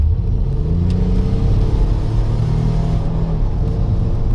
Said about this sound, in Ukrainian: Велика машина, яка приємно виє, працює і не стигне, а реве.